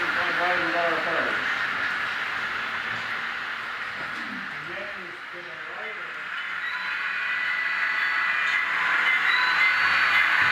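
An HO scale Rock Island model railroad train runs during an operating session, giving off a steady mechanical hum and rumble that swells again near the end, while people talk intermittently nearby.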